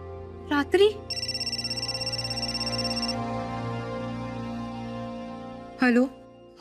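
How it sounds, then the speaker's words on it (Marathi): A telephone ringtone rings steadily for about two seconds in a home in a Marathi TV drama, preceded and followed by short bursts of nearby voices and a low background hum. "फोन आलाय."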